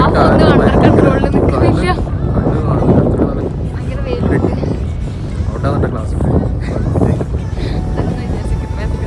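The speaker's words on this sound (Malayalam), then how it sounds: "അപ്പോൾ എന്താ ഭയങ്കര കാറ്റ്, ഒന്നും അണ്ടർ കൺട്രോളിൽ നിൽക്കുന്നില്ല." Strong wind on Al Noor Island in Sharjah buffets the microphone in loud, continuous gusts and roars while a person talks over it.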